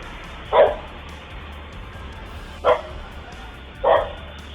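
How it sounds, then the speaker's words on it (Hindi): A dog barks three separate times, short, moderately loud barks spaced a second or more apart over a low, steady background hum. "कुत्ता भौंकने लगता है"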